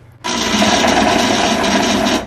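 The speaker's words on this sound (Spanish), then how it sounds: "Listo, ahí lo vamos a licuar." A blender whirs steadily as it purees hominy (mote) with water and pork broth for Peruvian tamales, a loud, continuous grinding drone that starts abruptly and runs unbroken for about two seconds.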